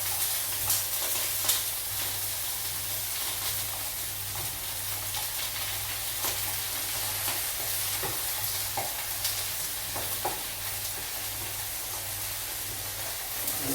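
Beef steaks and spinach fry steadily in a hot pan, a continuous close sizzle with occasional stirring and scraping sounds and no voices.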